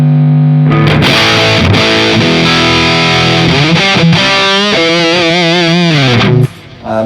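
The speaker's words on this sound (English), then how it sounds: "getting a lot more hum and buzz with more gain" A high-gain electric guitar roars through a 1989 Soldano SLO100 amp, loud sustained distorted chords and riffs that cut off abruptly near the end, leaving a brief burst of hum and buzz.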